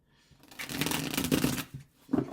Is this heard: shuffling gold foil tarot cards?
yes